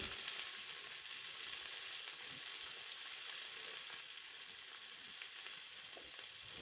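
Carrots and cauliflower sizzle quietly in a pan while pav bhaji is cooked. The crackle is soft and continuous, with faint stirring scrapes.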